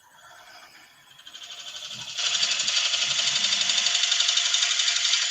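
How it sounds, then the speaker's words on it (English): An electric drill bores a large hole through a piece of firewood, its motor whine rising and then holding steady with a rough, rattling grind as the bit bites in, close and fairly loud. "It's quite a big hole to drill in one hit."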